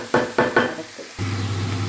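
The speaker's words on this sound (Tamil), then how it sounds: "இதெல்லாம் கொஞ்சம் பொரியணுமா மிளகறியும் போட்டு கொஞ்சம் தாளித்து கொஞ்சம் வேக விட போகிறேன்" Spices and black pepper tempering in hot oil in a pan for egg biryani: three sharp scraping stirs up close, then a steady, even sizzle with a low hum underneath.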